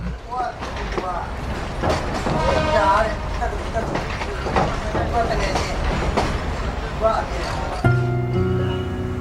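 Trains crossing at Rangoon central station in Burma, with a rhythmic clickety-clack of railcar wheels and clattering carriages close by, a voice talking over the rolling noise, and a tonal horn-like drone near the end.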